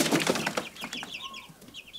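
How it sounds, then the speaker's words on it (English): Turkeys in a crowded pen on a homestead give close, loud clucks and gobbling calls, a busy cluster of bird sounds at first that thins into scattered chirps. "You can see these turkeys right here."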